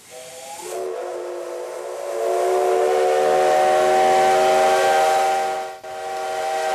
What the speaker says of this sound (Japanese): 関係者による出発の合図で SL 山口号が46年目のスタートを切りました